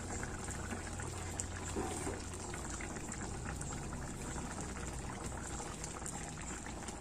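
Beef caldereta with liver spread boiling in a pot, a steady low bubbling and gurgling simmer heard close and fairly quiet throughout, with no talking.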